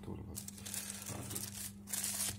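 Packaging of an HSP85 LCD drawing tablet is torn and crinkled open, with steady rustling and ripping of plastic and paper up close, alongside a low constant hum.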